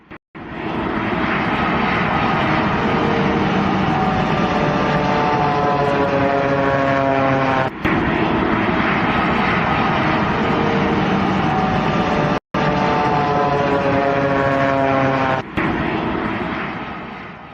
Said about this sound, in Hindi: लैंड होते समय आप इस प्लेन की भी आवाज सुनिए।